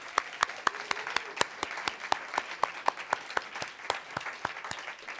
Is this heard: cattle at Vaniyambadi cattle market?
no